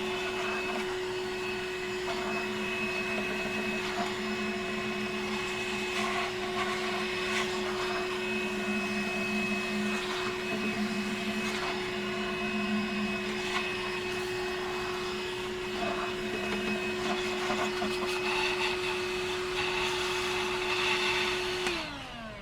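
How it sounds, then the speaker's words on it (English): A high, steady motorized whine of a DeWalt cordless vacuum blower blowing dust out of an RV water heater runs continuously, loud and close, with a strong constant tone and airy rushing noise throughout. "let's get our little DeWalt vacuum blower hooked up"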